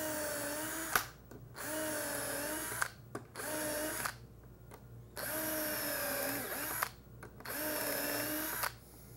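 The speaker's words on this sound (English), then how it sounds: "holding the hinge in place, we're just going to pre-drill our screws." Power drill pre-drilling screw holes for a cup hinge on a face-frame cabinet door, in several short whirring bursts with pauses between, fairly faint and close, with no talk.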